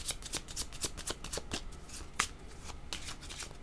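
Tarot cards shuffled and drawn in a steady flurry of crisp riffling slaps, close and fairly quiet, with one sharper snap near the middle and no voices.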